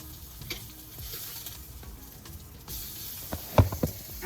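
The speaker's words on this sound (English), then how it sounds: "so I'm burning up my sausage, okay? Don't mean to, but yeah, it's burning." Sausage burning and sizzling in a frying pan, a steady soft crackle with a few sharper pops and clatters near the end, close and moderately quiet.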